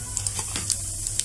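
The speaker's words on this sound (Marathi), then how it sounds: "फोडणीसाठी मोहरी घालूया," Mustard seeds and cumin sizzle in hot oil in a heated kadhai, a steady close hiss with small sharp pops and crackles scattered through it.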